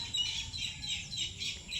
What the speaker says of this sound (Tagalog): Maingay ang mga ibon doon. Hindi ko lang alam kung anong klaseng ibon yung maingay na yun.